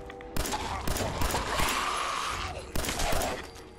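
Sharp gunshots fired at a feral ghoul in Fallout 4, a few loud cracks spaced out over a noisy backdrop, with some shorter bursts between them.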